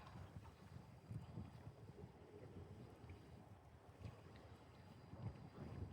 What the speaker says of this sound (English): Windy, but manageable.